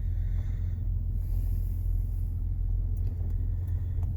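A 2005 Nissan Murano with a stalling problem idles steadily with a low, constant engine rumble, and the drivetrain shifts into gear partway through without any obvious clunk; no one speaks.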